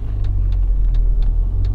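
Inside a 2003 1.0-litre car while driving, a loud, steady low engine and road rumble is heard up close, with faint periodic ticks and no talk.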